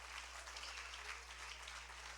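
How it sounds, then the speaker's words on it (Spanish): A church congregation claps in sustained, dense applause, heard faintly and evenly over a steady low electrical hum. "If you're going to clap, truly clap."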